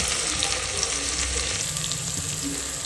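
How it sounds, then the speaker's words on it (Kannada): Onions fry in a pan with a loud, dense, continuous sizzle that holds steady throughout with no voices. "ಈಗ ಆನಿಯನ್ ಎಲ್ಲ ಫ್ರೈ ಆಗಿದೆ"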